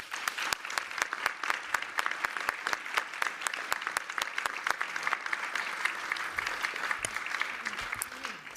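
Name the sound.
audience applauding a panel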